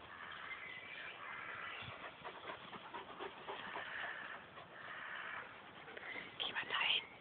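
A Landseer dog pants quietly and steadily close by, with soft whispering voices in the background.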